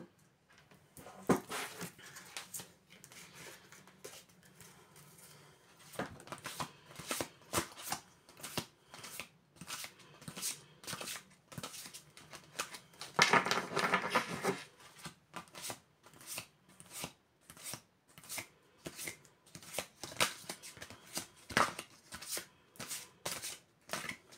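A deck of tarot cards is shuffled again and again at close range, with quick riffling bursts and soft slaps in an uneven, ongoing rhythm. The sound carries on alone without talk.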